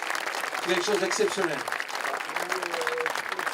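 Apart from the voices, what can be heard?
audience applause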